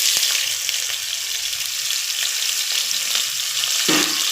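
Onions sautéing in hot oil with green chillies and bay leaves for a mushroom biryani, a dense steady frying hiss with occasional light stirring clicks, close and without talk.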